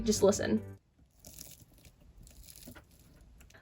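Stiff, product-hardened hair on an Adrien fashion doll being squeezed, giving faint scattered crunches and crinkles in short bursts after a brief spoken line, quiet and close.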